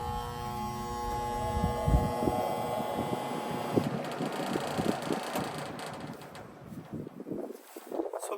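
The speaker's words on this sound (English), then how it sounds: "the condenser fan motor is running, but the compressor is not" Outdoor AC unit running with only its condenser fan motor turning and the compressor silent, a steady close hum with a broadband whir and some light clattering.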